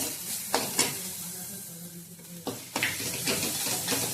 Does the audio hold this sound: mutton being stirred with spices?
yes